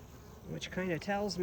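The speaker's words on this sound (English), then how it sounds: "I'm seeing a few bees coming in with a large amount of pollen" Honeybees buzz at a hive entrance as foragers return laden with pollen, a faint, wavering drone that rises in a few short swells, close by and quiet.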